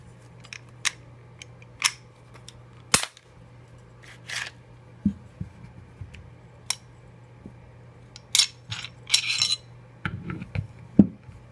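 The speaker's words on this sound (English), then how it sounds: "Break the Glock down first." A Glock 17 pistol is taken apart by hand: sparse, sharp metallic clicks and light clacks of parts, some in quick pairs, against a quiet low hum with no talking.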